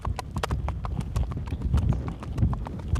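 Hooves of a horse on a loose rein going slightly downhill strike in an uneven, irregular gait, a close clip-clop of distinct thuds with no steady beat.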